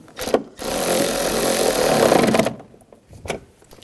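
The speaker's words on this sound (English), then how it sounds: "Now we'll tighten this bolt down." A bolt on the rear door check of a 2009–2010 BMW 535i xDrive is tightened with a power tool, a close, loud whirring burst of about two seconds framed by short clicks.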